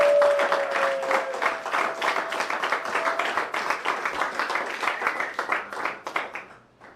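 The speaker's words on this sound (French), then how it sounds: "Sous l'acclamation de toute l'assemblée." Wedding congregation applauding during a nuptial blessing, dense rhythmic clapping that sustains steadily over a fading tone at the start, then tapers off at the end.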